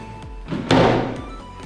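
A cabinet drawer slides along its rails and lands with a soft, close thunk as it is pushed shut, preceded by a brief scraping slide.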